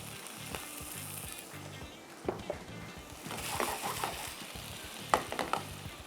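A mixture being stirred in an oiled pan with steady sizzling and frying underneath, scraping spoon strokes and a few sharper knocks against the pan, no talk.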